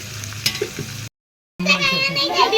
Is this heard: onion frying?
yes